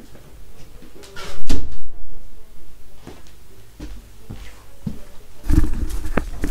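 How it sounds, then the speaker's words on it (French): A door is closed indoors with a few knocks and thuds and one louder bang, followed by scattered handling bumps and soft rustling. "Je vais fermer la porte, on entend tout."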